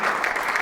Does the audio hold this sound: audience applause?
yes